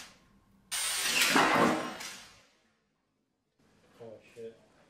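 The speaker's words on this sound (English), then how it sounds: "And here's me doing an oopsie with the drill." Power drill boring into a small wooden table, a loud close burst of about two seconds that whines down as the bit slips, then silence before someone speaks briefly.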